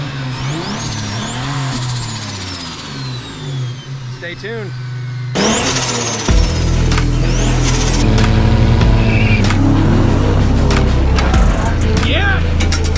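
A turbocharged first-generation Toyota Tacoma engine revs loud and close, climbing and falling in pitch with a rising whine, and a person speaks briefly over it.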